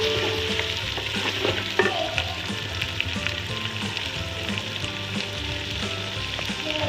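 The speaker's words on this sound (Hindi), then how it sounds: "जब तक हम चिकन फ्राई कर रहे हैं मसाले में" Chicken frying in masala for Lahori murgh cholay, a steady loud sizzle with spoon stirring and occasional clinks throughout, no talking.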